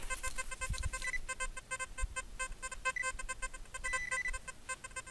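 Metal detector sweeping a target in a forest during a coin hunt, giving repeated rapid electronic beeps and tones in a steady pulsing pattern, fairly close and clear with no talk over it.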